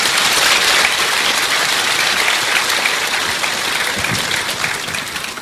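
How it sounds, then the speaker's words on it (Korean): A church congregation gives loud, sustained applause for a children's praise group and choir, many hands clapping in a thick, even wash that fades a little toward the end. "우리 어린이 찬양 그룹과 우리 찬양대에게 뜨거운 박수 부탁드리겠습니다"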